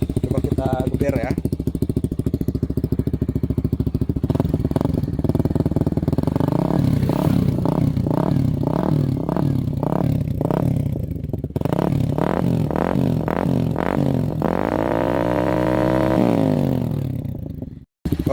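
Suzuki GSX motorcycle with a CLD Monster exhaust and dB killer fitted, idling then revved repeatedly in loud close blips that rise and fall, with someone talking over the engine at times.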